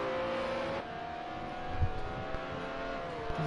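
Race cars lapping a track in a pro car league final round, engines holding a steady, close high-pitched drone that shifts pitch slightly as they run, with a brief thump midway.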